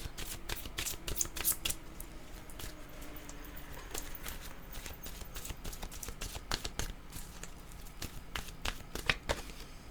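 Oracle cards shuffled by hand for a reading make a continuous soft riffling and flapping, close and steady, with quick slaps and crisp card snaps throughout and no voice.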